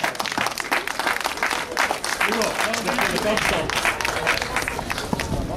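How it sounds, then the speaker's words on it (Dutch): Applause for the winner at an awards podium, a dense, steady burst of clapping from a crowd with a few voices mixed in, continuous throughout. "Kan ik vraag een applaus voor Gio Jerome."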